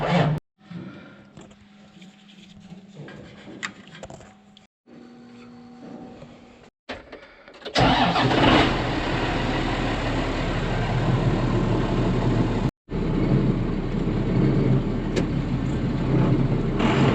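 A backup farm tractor's engine starts with a few quiet catches, then settles into a loud, steady idling rumble close by, with one brief dropout.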